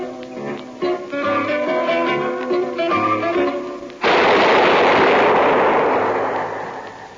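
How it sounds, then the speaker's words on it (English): Following a few seconds of plucked zither music, a single loud gunshot effect from an old-time radio crime drama booms and rolls off in a long, fading roar. "That was the shot that killed Harry Lime."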